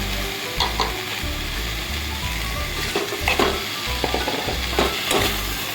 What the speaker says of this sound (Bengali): মশলাটা ভালোভাবে কষানো হয়ে গেছে দেখো তো এখন আমি দিয়ে দিব ডিমগুলো